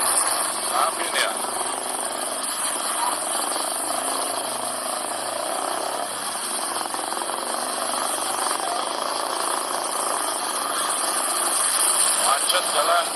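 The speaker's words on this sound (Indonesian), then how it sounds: "Macet jalan." Idling car engines hum steadily in a stalled traffic jam on an Indonesian city street, a continuous, fairly loud rumble with scattered mechanical clatter and background voices throughout.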